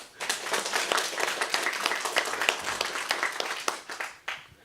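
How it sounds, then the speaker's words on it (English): Graduating students' families clap at a high school summer graduation ceremony, a dense patter of many hands sustained for several seconds at moderate level, thinning briefly near the end. "We can clap for that too"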